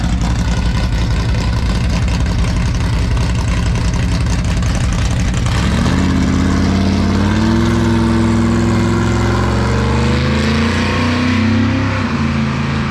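A carbureted car engine runs at a farmers market car show in Holt, Michigan, loud and close, settling from a rough idle into rising and falling revs partway through.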